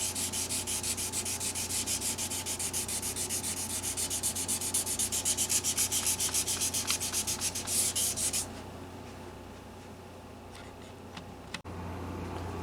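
Steady back-and-forth rubbing of 600 grit wet sandpaper, close and even, runs for about eight seconds, then stops, leaving quieter scattered scuffs and a low background hum.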